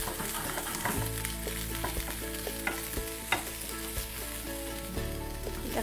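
Carrots, beans, cabbage and capsicum stir-frying for Kolkata-style egg fried rice, with a steady sizzle and repeated scraping stirs of the spatula every second or so, close and fairly loud, with no voices.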